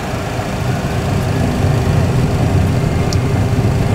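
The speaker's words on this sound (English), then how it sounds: "Set takeoff thrust." Boeing 737 jet engines building toward takeoff thrust, a loud, steady low rumble and roar that swells slightly over a few seconds, heard alone.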